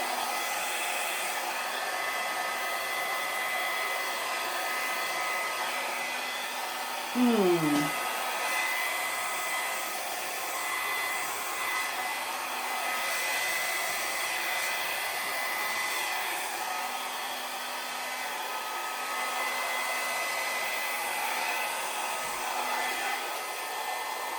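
A hair dryer blows steadily over acrylic paint during an acrylic pour, a constant loud whooshing hum close by that runs unbroken throughout, with a brief bump and a short tonal sweep partway through.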